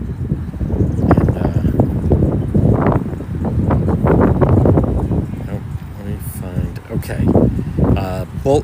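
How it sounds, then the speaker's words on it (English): Strong wind rumbles and gusts against the microphone outdoors in Pawtucket, Rhode Island, while a person talks over it continuously. "so it's very windy"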